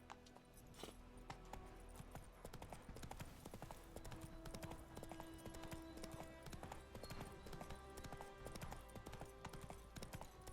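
Horse hooves clip-clop steadily in The Witcher 3, a continuous rhythmic trot layered over game music and ambience, moderately loud throughout with an occasional faint whinny.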